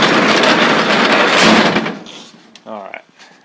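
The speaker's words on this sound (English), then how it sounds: "I gotta shut the door real quick." Garage door in a shop with a 1966 Chevy truck pulled shut quickly, a loud sustained rolling rush that drops off into a brief knock, with a voice speaking just after.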